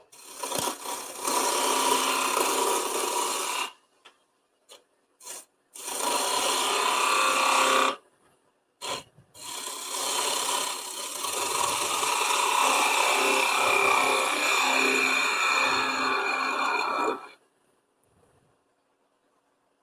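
Wood lathe turning a candlestick while a tool cuts it thinner, giving loud sustained scraping bursts broken by short pauses.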